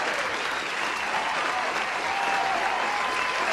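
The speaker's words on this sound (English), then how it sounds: "where's the applause?" Steady applause from a crowd fills the space, dense and continuous at moderate loudness throughout, with no pauses.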